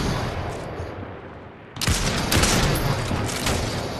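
Sniper rifle fire in a shooter video game: a sharp, loud shot bursts in partway through over steady background din, followed by more rapid crackling gunfire that continues to the end.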